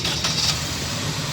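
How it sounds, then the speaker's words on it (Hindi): A Suzuki Liana car with overheating and starting problems, its engine cranking briefly and catching into a steady running hum, close up and with no talking. "पानी का हमारा लेवल पूरा हो चुका है। गाड़ी स्टार्ट करो।"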